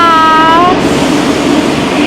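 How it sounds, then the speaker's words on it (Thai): Train no. 997 pulls into Chuk Samet station in Sattahip, Thailand, a steady loud rumble with a high squeal that fades out early on, no voices over it. "เรามาโดย รถไฟขบวนนี้เลยค่ะ 997 นะคะ"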